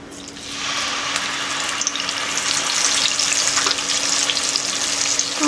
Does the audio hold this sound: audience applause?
no